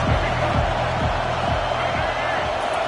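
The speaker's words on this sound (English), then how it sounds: "this crowd is turning it up a notch" A stadium crowd in an American football video game roars steadily, with rhythmic low thumps beating under the continuous wash of cheering.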